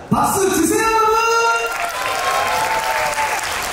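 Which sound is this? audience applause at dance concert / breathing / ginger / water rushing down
audience applause at dance concert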